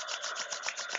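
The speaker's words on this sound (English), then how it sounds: "Rub your hands." Palms rubbing briskly together to warm them before a yoga session, a soft, steady, close-up swishing friction that pulses gently, with no talk over it.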